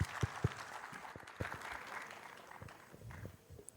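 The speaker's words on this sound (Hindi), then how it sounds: "आप सभी की एक बार फिर से उनके लिए तालियां हो जाए" An audience at a literary event gives scattered applause to welcome a speaker to the stage, soft irregular claps with a few louder thumps near the start, fairly faint and distant.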